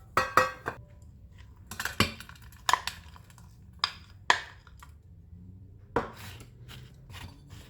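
A large spoon presses buttered crumbs into a lightly oiled cake pan for a cheesecake base, giving a run of sharp metallic clinks and scrapes in irregular bursts, close and fairly loud, with no talking.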